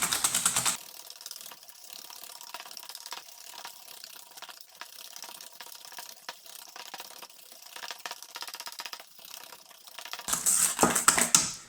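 Egg yolks and sugar whisked by hand in a bowl for a lemon tart: a fast, steady, rhythmic scraping and clicking close by that lasts the whole stretch, louder at the start and end, with no talking.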